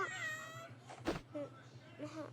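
Cartoon cat meowing in the Toca Boca game, a few short mewing calls over steady background game music, with a brief thump in the middle.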